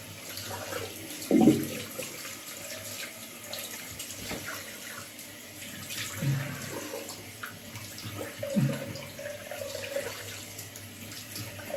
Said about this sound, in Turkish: şu an yüz makine yıkayacağım soğuk suyla